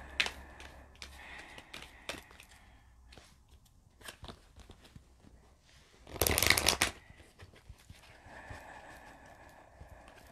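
Isis Oracle cards being shuffled by hand, soft papery riffles and taps with one loud, dense riffle burst partway through, close and without talk.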